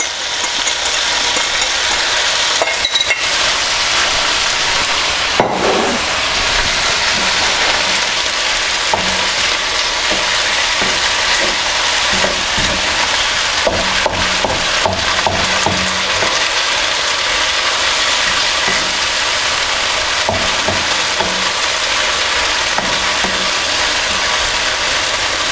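Cantonese sauce poured into a hot pan with fillet steak, hissing and sizzling loudly and steadily, with scattered clicks and scraping stirs of a utensil against the pan, no talking.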